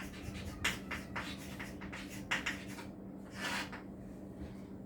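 A pen or marker scratches across paper or a board in quick strokes, writing out a 3 by 3 determinant, soft and close with a steady low hum underneath.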